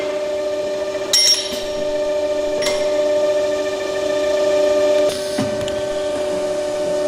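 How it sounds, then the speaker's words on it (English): Li Chou Taiwanese facing and centering machine with pneumatic workpiece feed runs on hydraulics, giving a steady tonal hum with a few sharp clanks and hisses of air releasing. "It has pneumatic feed for the workpiece, loading system, and the machine is run on hydraulics."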